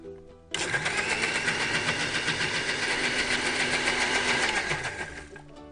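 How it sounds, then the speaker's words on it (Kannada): A mixer grinder blending curd and water into buttermilk kicks on abruptly and runs as a loud, steady, high motor whine with a rhythmic churning pulse for about five seconds, then winds down as it is switched off. "ಇದು ಆದ್ಮೇಲೆ ಮತ್ತೊಂದ್ಸರಿ ನಾವು ಮಿಕ್ಸಿ ಮಾಡ್ಕೋಬೇಕು."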